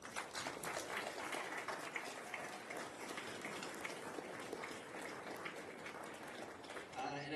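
Audience at a school farewell celebration applauding the students' parents, a dense, sustained patter of clapping from many hands throughout, fairly distant.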